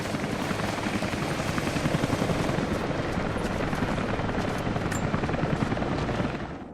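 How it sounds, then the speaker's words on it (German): A helicopter approaches in the video game Rise of the Tomb Raider, its loud, steady rotor roar filling the scene without letup, with dense gunfire-like crackle mixed in. "Oh, der Heli kommt."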